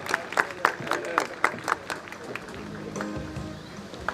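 A church congregation at a Mission Day and bishop's ordination anniversary claps in a quick rhythmic patter that softens into a murmuring crowd, with voices rising under the fading applause.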